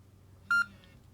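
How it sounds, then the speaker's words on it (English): A FlySky G11P radio transmitter sounds a single short, clear electronic beep as its low-voltage warning, alone against a quiet background. "we'll get a beep every now and again to say it's going flat"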